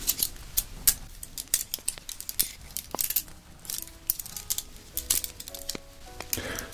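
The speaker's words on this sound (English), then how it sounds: "for just a little bit of trimming, we have extra scissors here." Close, crisp snips and clicks of scissors trimming hair come in an irregular series of quick cuts with faint metallic clinks, intimate and quiet with no talking.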